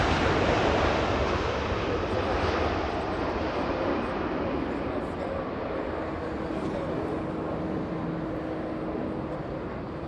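Jet airplane roar at Los Angeles International Airport, a loud broad rumble that fades slightly across the clip, with a faint steady tone in the background and no voices.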